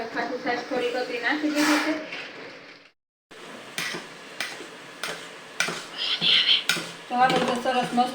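A spoon clinks and scrapes around a bowl as dosa batter is stirred, with irregular taps and a short pause, under a speaking voice.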